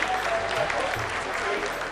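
Sustained applause fills ISRO mission control during the Chandrayaan 3 lunar landing's vertical descent, a dense, steady roar of clapping from a large room, with faint voices underneath.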